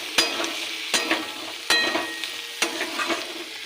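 Spiced potatoes for aloo dum are stirred in a sizzling pan, with four sharp spoon scrapes at a steady pace over a constant close frying hiss.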